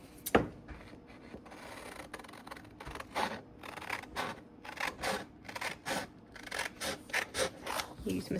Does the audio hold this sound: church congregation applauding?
no